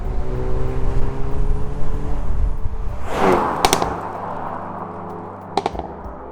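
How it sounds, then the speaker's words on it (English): A Hyundai Veloster N with a 2-liter turbo engine and performance pack drones at steady revs, then lifts off with a sharp whoosh and a couple of pops as it fades away. "It's a 2-liter turbo, 275 horsepower with the performance pack, and it sounds great."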